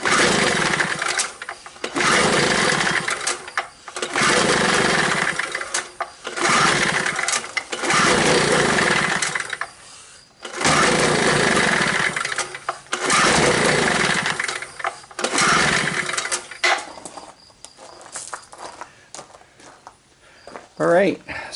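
A two-stroke 900W generator engine is pull-started several times in a row, each rough burst of starter rasp and sputtering engine sound coming close and loud, separated by short pauses.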